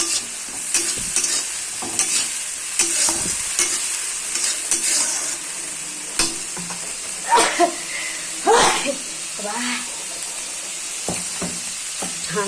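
Loud sizzling and frying in a pan as tomato goes in with already fried fish, with potato and beans nearby; bursts of crackling spit and flare over a steady hiss, stirring scrapes throughout.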